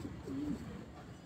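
One soft, low pigeon coo, brief and fairly faint, over a quiet rooftop background.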